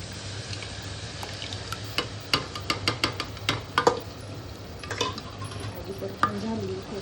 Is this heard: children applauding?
no